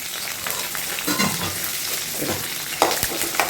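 Curry leaves frying in hot oil for a traditional Kerala fish curry with mango, a dense crackling sizzle with bursts of sputtering and a few stirring clatters, close and loud.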